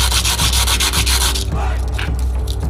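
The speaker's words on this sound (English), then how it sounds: "I'm laying it on top of the plastic here, and then just sanding the edge." Sandpaper scrubs the edge of a plastic headlight piece for a 1946 Dodge Power Wagon RC wrecker model in rapid, rhythmic, close-up strokes that continue steadily and then loosen into rougher, uneven rubbing.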